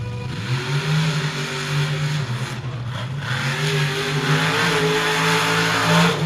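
Trucks race head to head for a championship at Bloomsburg, their engines giving off a loud, sustained roar whose pitch wavers and climbs slightly throughout, with no voices.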